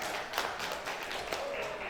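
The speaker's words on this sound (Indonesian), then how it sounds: "kita berikan tepuk tangan yang paling meriah untuk para finalis kita" Applause from the audience at the grand final of a children's ambassador contest in West Java, a steady wash of many hands clapping that is muffled and mixed with murmuring voices in a hall.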